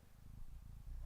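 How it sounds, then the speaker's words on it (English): A soft, low rumbling purr from a cat, close by and quiet, pulsing gently over about a second. "Here's purring."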